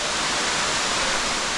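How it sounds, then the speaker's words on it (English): A waterfall pours inside a river cave with a dense, steady roar of rushing water, loud and close, with no break or other sound. "That waterfall is something."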